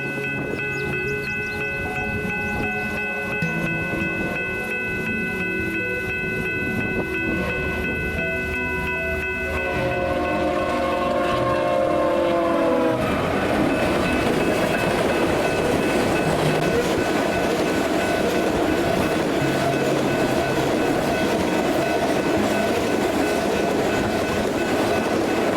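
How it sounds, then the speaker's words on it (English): A westbound grain train rolls past with a Ferromex ACE locomotive trailing: steady loud rumble and clatter of freight cars, with a sustained tonal horn-like drone early that gives way to broader, louder rolling noise after about thirteen seconds. "this westbound grain train came out of nowhere with a Ferromex Ace trailing"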